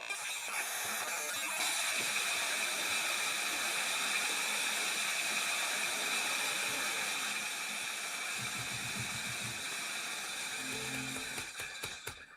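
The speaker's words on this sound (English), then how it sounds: "It's just nothing but static." Steady, dense static hiss from a data file played back as raw audio, loud and unbroken for the whole stretch, with a brief lower rumbling texture near the end.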